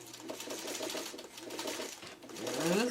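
A sewing machine stitches fabric at a low level, in short rhythmic runs of needle clatter over a steady motor hum, with a pause in the middle.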